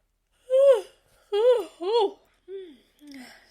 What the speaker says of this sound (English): yawns.